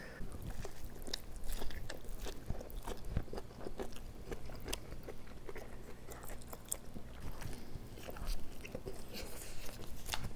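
Someone bites into and chews Korean street toast with corn and sweet pickles, giving close, continuous crunchy chewing and biting sounds throughout, without talk.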